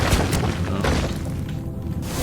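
A multi-arrow bow fires in an indie video game, producing a few quick booming thumps and impact hits in close succession, loud against a busy game soundscape.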